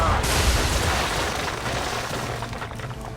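Naval cannon fire between sailing ships in Assassin's Creed III, a dense rumbling roar of booming shots and crashing impacts that fills the whole moment at steady loudness.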